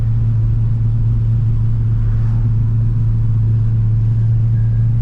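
LS1-powered VN Commodore on the freeway, a steady loud low drone and whine from the noisy differential under a constant road rumble inside the car.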